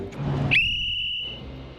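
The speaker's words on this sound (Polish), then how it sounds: "Takie dalekie echo było słychać tego gwizdka." One loud, shrill whistle blast rings out steadily for under a second at a large water park, then stops, with faint ambient noise before and after.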